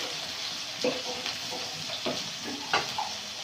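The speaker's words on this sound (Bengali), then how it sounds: "দিয়ে মশলাটা ভালো করে কষে নেব" Masala of ginger paste, chopped tomato and chili powder frying in oil in a village kitchen, with a continuous sizzle and a few soft stirring scrapes at irregular intervals.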